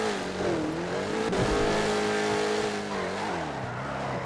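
Several car engines approaching and roaring past in a GTA roleplay game, loud continuous revving with shifting pitch and a hint of tire squeal, close by and without talk.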